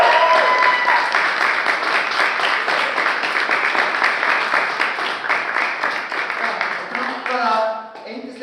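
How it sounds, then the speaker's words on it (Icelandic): Loud, dense applause from a crowd, sustained clapping that thins out toward the end as voices begin to emerge. "Gefum gott klapp."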